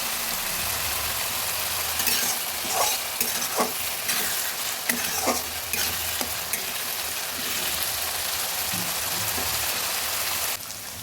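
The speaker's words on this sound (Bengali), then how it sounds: "পেঁয়াজটাও ভেজে নিচ্ছি" Sliced onion sizzles in hot oil in a pan for a chicken and papaya curry, with a steady crackling hiss and a few sharper stirring scrapes partway through, continuing close and alone without talk.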